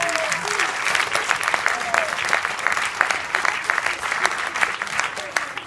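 Sustained audience applause at a tenth-anniversary celebration for an association, steady dense clapping throughout with some crowd voices mixed in.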